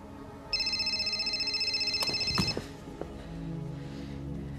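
Telephone ringing tone, a steady electronic warble for about two seconds, followed by a couple of handling clunks and a low background hum.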